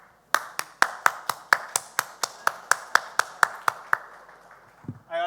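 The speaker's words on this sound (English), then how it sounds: "First I would like to applaud their efforts for actually bringing all this crowd together." Steady, evenly spaced claps ring out after an industry presentation at a university event, about fifteen crisp slaps in a slow regular rhythm, fairly close, ending with a brief low thump.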